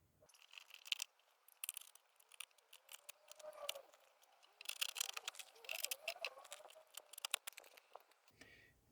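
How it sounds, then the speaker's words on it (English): A sharp blade trims the edges of a body panel on an Opel Manta under restoration, making close, irregular scraping cuts and small ticking clicks in uneven bursts against a quiet background. "A nice sharp blade to find them and trim them out."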